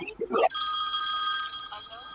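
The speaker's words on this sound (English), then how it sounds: "got a phone call" A telephone rings with an incoming call in a live studio broadcast: a steady electronic ring begins just after a brief voice and keeps sounding, fairly close.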